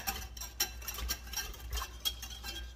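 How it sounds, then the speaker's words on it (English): Spoon stirring ranch dressing mixed with taco sauce and mayonnaise, a run of light, quick clinks and scrapes against the dish in an uneven rhythm, close and fairly quiet. "And then you're just going to give it a stir."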